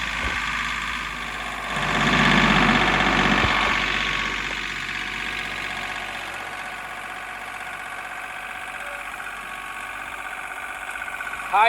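A John Deere tractor engine runs while the tractor drives forward, a steady mid-pitched drone that swells for a few seconds and then settles, with someone talking over it.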